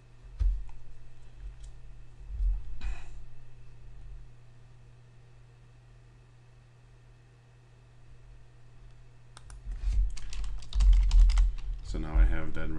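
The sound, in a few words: typing a URL on a computer keyboard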